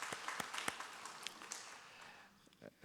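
A church congregation claps to welcome returning family members, a faint, scattered round of applause that thins out and trails off toward the end.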